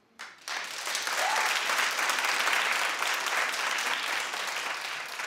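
A studio audience at a talk show bursts into applause after a brief quiet moment, sustained, loud clapping from many hands that carries on evenly before easing slightly toward the end.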